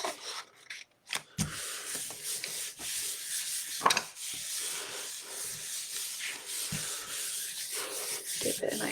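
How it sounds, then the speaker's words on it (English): Paper is rubbed by hand over a stamped gel press plate, with a few brief knocks at first, then a steady close rubbing hiss that continues to the end. "Give it a nice little rub."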